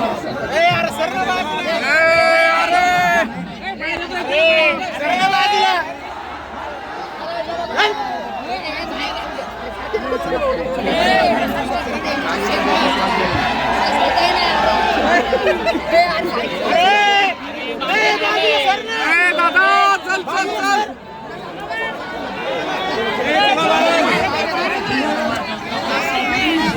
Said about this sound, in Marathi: किती गर्दी झाली